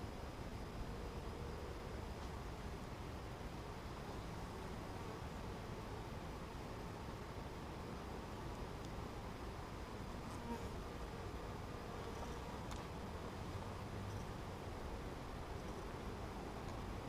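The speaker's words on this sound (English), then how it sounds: "There is a whole mess of bees down in this corner." Honey bees in a hive being inspected by a first-year beekeeper produce a soft, constant buzzing drone that holds evenly throughout with no talking.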